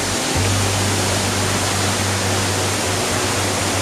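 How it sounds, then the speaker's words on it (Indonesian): Loud, continuous roar of a waterfall, dense rushing water noise filling everything, steady and close with no pauses. "Nih air terjunnya"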